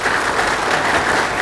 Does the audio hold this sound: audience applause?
yes